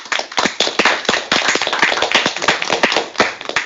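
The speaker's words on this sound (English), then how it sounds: "Let's give Mitchell a round of applause." A crowd claps steadily for several seconds, a dense run of sharp hand claps at fairly close range with no voices over it.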